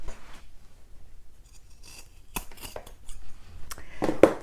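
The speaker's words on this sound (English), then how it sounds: "The last step for the front zipper pocket is to trim the zipper, the leftover zipper off." Scissors snip through leftover zipper tape on a sewn sling bag, with several sharp close-up cuts and rustles spread across the clip, the last ones louder, and no talk.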